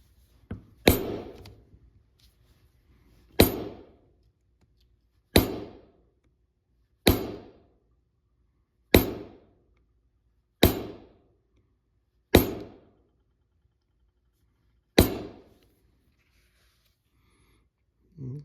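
A Barry King leather beveler stamping tool is struck with a mallet on leather, giving eight sharp, evenly spaced knocks several seconds apart, close and loud, with short decays and silence between.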